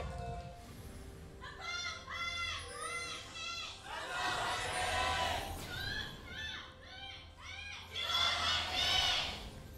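A full studio crowd cheers at a League of Legends match between Samsung Galaxy and SK Telecom T1, swelling in rising waves of shouts under steady commentator talk.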